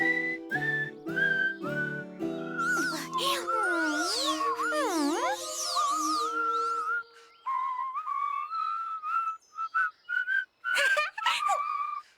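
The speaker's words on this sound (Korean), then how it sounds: "부끄러워 말고 휘파람으로 아무거나 불어봐" Someone whistles a melody up close, with bright sliding pitches and quick trills, the tune wavering and breaking into choppy notes toward the end.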